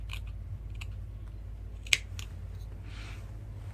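Scissors snip through fabric while a shirt component is cut out for sewing, giving a few faint, close clicks with one sharper snip midway over a low steady hum, with no talking.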